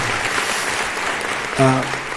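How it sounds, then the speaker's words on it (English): Convocation audience applauding, a steady crowd of clapping hands filling the whole stretch, with a brief voice rising over it near the end. "Another round of applause for her, if you guys don't mind."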